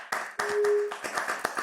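Clapping with two hand controllers at a virtual event in Spatial: a short run of sharp claps and taps, fairly close, with a brief tone in the middle.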